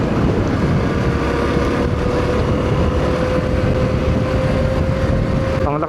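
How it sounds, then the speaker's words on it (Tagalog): Strong wind buffeting the microphone on an open ride along a riverside dike, a loud continuous roar and rumble with a steady engine tone beneath, close and unbroken throughout. "Ang lakas talaga ng hangin."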